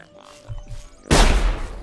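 Gunfire hits the player in the video game Sir, You Are Being Hunted: a sudden loud burst of blasts and rumble breaks in after quieter low thumps and murmuring and keeps going to the end.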